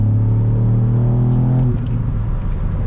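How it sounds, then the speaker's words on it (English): A Ford Fiesta ST MK8 engine floored in third gear from about 3000 RPM, a loud steady rising drone with a strong low hum that shifts pitch near the end, heard from inside the car. "So third gear, 3000 RPM, flooring it."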